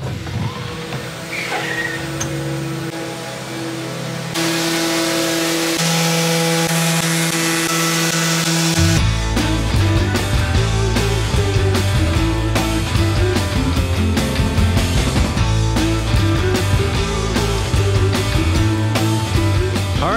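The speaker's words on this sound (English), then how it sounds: "is sanding a maple table" A power sander whirs loudly and continuously on a maple table, its motor tone shifting partway through, with no talking.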